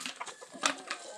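Chickens clucking in short, scattered calls, fairly close, with soft rustling in the background.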